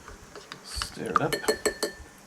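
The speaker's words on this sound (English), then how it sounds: "Stir it up." A spoon stirring food inside a 2014 MRE ration pouch, a short run of metallic clinks and scrapes close by, with someone talking around it.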